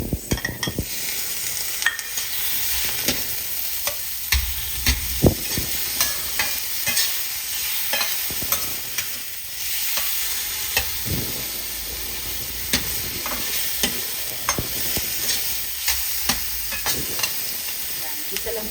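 Tomatoes stirred and sautéed with bitter gourd in a pan for ginisang ampalaya, a steady frying sizzle with repeated scraping stirs and clacks of a utensil against the pan, close and continuous with no talk.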